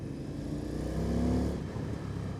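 An Indian FTR 1200 S motorcycle riding along, its engine a steady low drone that swells slightly mid-way, heard close with wind and road noise and no talk.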